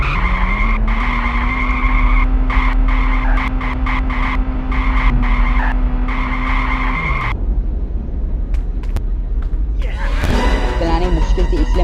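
Car in the mobile horror game Ice Scream, its engine droning steadily and loud with tire skids, then a sharp shift to rougher noise near the end; game sounds fill the whole stretch.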